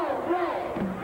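Anxious arena crowd at an Indiana vs Illinois college basketball game in 1995, a steady dense roar of voices with some rising shouts, filling the space throughout the short moment.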